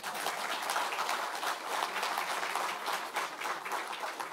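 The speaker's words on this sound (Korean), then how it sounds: "여러분 잘했다고 생각하시면 박수 한번 주십시오" Steady, dense applause from the crowd at a Korean Democratic Party event on the floor leader race. Many hands clap together at an even level for a few seconds.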